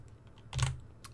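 A few light keystrokes tap on a computer keyboard, one cluster of quick clicks louder than the scattered faint taps around it, close and quiet with no talk.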